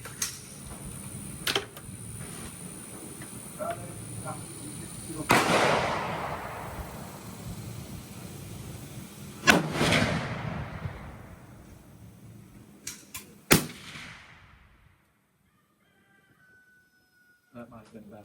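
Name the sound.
rifle shots from Savage Axis Pro .25-06 at range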